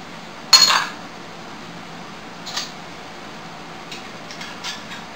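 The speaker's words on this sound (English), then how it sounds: "Place your ring on, and you just want to do these finger tights." A metal canning lid and screw ring set onto a glass canning jar give one sharp metallic clink near the start, followed by a few faint light taps and scrapes against a quiet room background.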